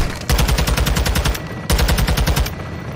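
Aircraft cannon fire from a gun run in the Modern Warfare 2 campaign: two loud, sustained bursts of rapid automatic shots, split by a short pause midway, with no voices.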